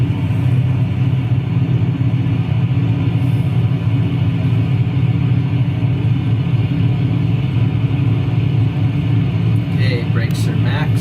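A single-engine aircraft engine in a flight simulator throttled up to 1,800 RPM for the run-up, a steady loud low drone and rumble holding constant throughout.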